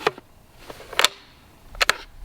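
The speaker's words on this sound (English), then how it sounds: "Close the action. That sound is enough normally to get the deer's attention, all that metallic sound." A rifle bolt action being worked and closed during a hunting firearms demonstration, making a few sharp, close metallic clicks and clacks spaced apart by quiet pauses.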